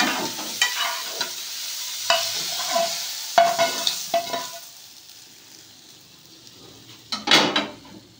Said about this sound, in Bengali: মাছটা ভাজা হয়ে গেছে, চিংড়ি মাছটা আমি ঢেলে নেব।